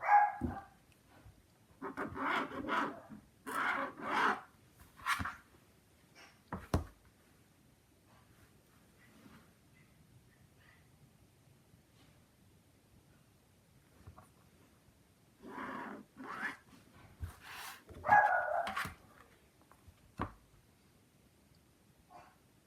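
Dogs barking indoors near a door, in scattered bursts of several barks with long quiet gaps between, fairly close and alone without talk.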